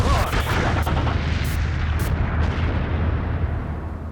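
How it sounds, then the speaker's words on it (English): LP gas tank exploding after being struck by gunfire from an Apache helicopter, a heavy sustained rumbling blast with crackling bursts, loud and dense throughout, no talk. "pulled the trigger, aiming at the guy, hit the gas tank, and the whole gas tank exploded"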